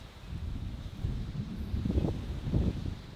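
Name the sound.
wind blowing on microphone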